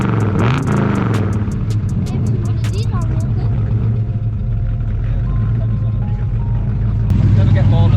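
Classic or rally car engine running loud and close in a park, a steady throaty drone with rising revs near the start, with people talking over it throughout.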